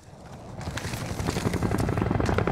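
A helicopter in the video game Call of Duty Modern Warfare, its rotor thumping and engine roar rising steadily in loudness as it draws nearer, with no voices over it.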